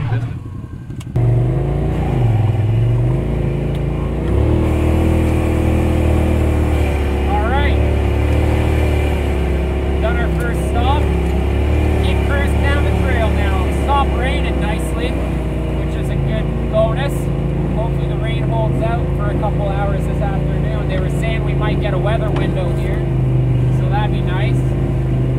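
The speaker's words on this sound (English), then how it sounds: "RJWC exhaust on the Renegade sounds evil." A 2018 Can-Am Renegade engine with an RJWC aftermarket exhaust idles and revs with a deep, throaty exhaust rumble, sustained throughout at close range.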